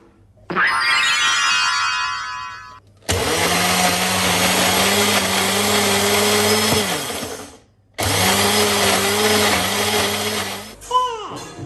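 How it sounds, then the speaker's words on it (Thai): An electric blender whirs loudly for two long runs with a short pause between, pureeing simmered vegetables with milk. A brief, higher-pitched sound comes before the motor starts. "มันแน่นเราจะปั่น ปั่นได้ไหมเนี่ย อ่ะ ไหนลอง เราลองไปดูซิเราปั่นได้ไหม"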